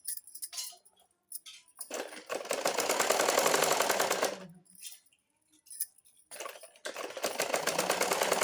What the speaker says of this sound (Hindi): हम इसमें डबल सिलाई चलाएंगे।